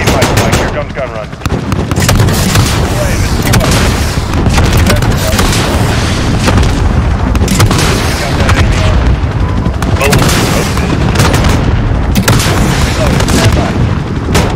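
Relentless heavy gunfire from a helicopter gun run in Call of Duty Modern Warfare, dense loud bursts of rapid shots and booming impacts filling the scene almost continuously, with radio chatter mixed in.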